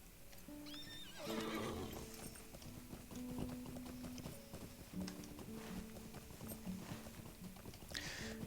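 Horse hooves clip-clopping steadily as a character rides through Lord of the Rings Online, with an opening neigh, faint game music underneath and no talk.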